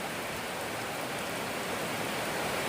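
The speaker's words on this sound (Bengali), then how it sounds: "রাস্তায় পুরো একদম জল জমে আছে এত পরিমাণ বৃষ্টি হচ্ছে" Heavy rain pours steadily onto a waterlogged road, a dense, unbroken roar of drops at even loudness throughout, with no voices.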